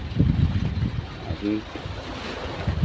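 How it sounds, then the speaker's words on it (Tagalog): Rough sea waves churn under heavy wind buffeting the microphone, a brief engine-like drone rising in the middle. "malingkak ang alon mga bro sa kabila"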